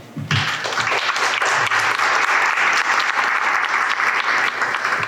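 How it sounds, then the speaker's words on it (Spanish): An award ceremony audience at a national literature prize event breaks into loud, dense applause after a brief pause, sustained clapping from many hands filling the rest of the moment. "para quienes pido un aplauso."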